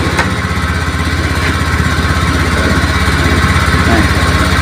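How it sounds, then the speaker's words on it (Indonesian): A fuel-injected Honda Beat scooter with a dead battery is kick-started and its small engine catches, settling into a loud, steady, buzzing idle close by. "Oke, sekarang kita hidupkan untuk motornya. Kita selah saja karena motor ini akiknya mati,"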